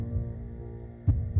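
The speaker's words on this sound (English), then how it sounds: "Your heart beating slow." Slow heartbeat sound effect in a South Alabama football Camellia Bowl hype montage: low, deep thumps under a steady hum, with a heavy double beat near the end.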